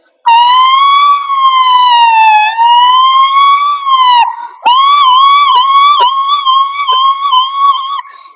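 A voice imitates a wailing ambulance siren, loud and close, rising and falling in long sweeps, then breaking into quicker warbling pulses, performed in a state-level school mimicry competition.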